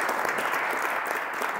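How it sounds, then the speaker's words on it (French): An audience applauds continuously at a talk on the history of Guadeloupean domestic workers, a full, even clapping that fills the whole moment without voices. "est-ce qu'on peut l'applaudir, ça?"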